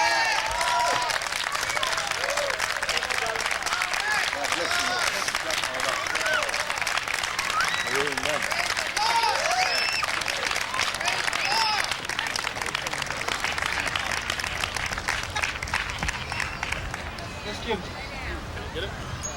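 An audience at a church family-day event bursts into applause for a visiting reverend, dense continuous clapping close and loud with some cheering, slowly thinning toward the end, with voices calling out over it.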